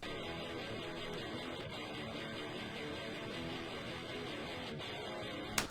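An electric guitar captured through Rode NT microphones plays a thick, sustained distorted part that keeps going without pause before stopping abruptly at the very end; no one speaks.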